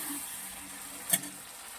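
Onion and potatoes sizzle quietly while being sautéed in a pan, a soft steady frying hiss with one brief scrape or clink of stirring near the end.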